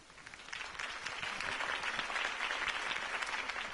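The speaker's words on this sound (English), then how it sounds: "could have heard that applause" Steady, enthusiastic applause from a large audience, many hands clapping densely and continuously at a loud, even level throughout.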